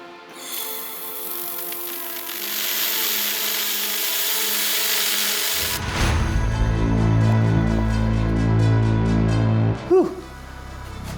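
Test shot from a laser welder used by amateur welders over a rug: a loud, steady electrical whine and hiss that shifts into a lower droning hum with a brief sharp burst near the end.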